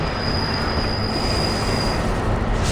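Train wheels squeal on rails in the Far Cry 3 video game, a steady high metallic whine over a continuous rolling rumble, loud and close for the whole stretch with no talking.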